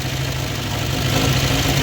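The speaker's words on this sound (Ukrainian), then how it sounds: "Моторчик робить непогано" A VAZ 2103 sedan's engine, fitted with a new starter, radiator and ignition coil, idles steadily close by with an even, low, rumbling drone throughout the short stretch.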